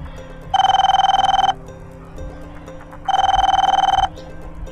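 A telephone bell rings in an office, two clear bursts of steady electronic trilling separated by a short pause, loud and close with faint background noise between rings.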